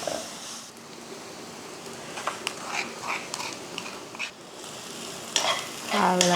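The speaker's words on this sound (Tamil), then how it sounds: "பொரியல் ரெடியானதுமே இதை போட்டு கிளறி விடுறது தான் வேலை." Okra stir-fry (poriyal) sizzles in a pan while a spoon stirs and scrapes through it in short, irregular strokes. The scraping grows louder and busier near the end.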